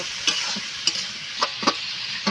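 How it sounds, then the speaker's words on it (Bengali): Onion fries in a pan with a steady, bright sizzle, broken by a few sharp scraping stirs of a utensil against the pan. "পেঁয়াজ দিয়ে দিচ্ছি পেঁয়াজটা ভেজে নেবো"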